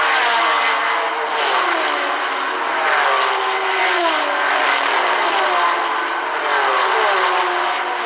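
Sports prototype race cars, including Matra and Mirage GR7 machines, pull away at the green flag, several engines overlapping in rising and falling revs, a loud, dense, thin-toned roar with no voices, as from an older broadcast.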